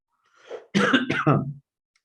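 One rough cough with some throat clearing from allergies, close and fairly loud, a couple of quick bursts with silence around them.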